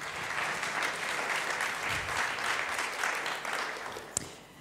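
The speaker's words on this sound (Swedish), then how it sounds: "En varm applåd för Pernilla från .se." Warm, continuous applause from an audience at a prize-giving event as a presenter is called onto the stage, moderately distant and even, ending with a single sharp knock near the close.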